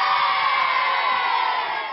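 A studio audience cheers and whoops loudly in a steady, dense roar for a pop music quiz show, sustained for the whole stretch without pause.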